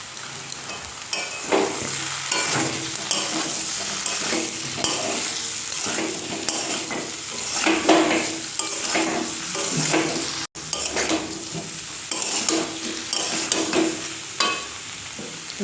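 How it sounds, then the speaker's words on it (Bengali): Ground cumin, coriander and chili powder with sugar sizzling in a hot pan while a spoon stirs them, continuous close frying hiss with repeated scraping strokes against the pan. "মশলাটা ভালো করে মিক্স করে নেব"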